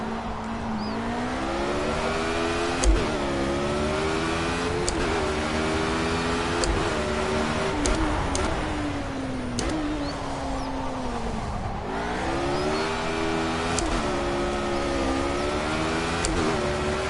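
A race car engine in the Project CARS racing game revs up and down through repeated gear shifts during a time trial lap, its loud whine rising and dropping under braking, with brief tire squeals.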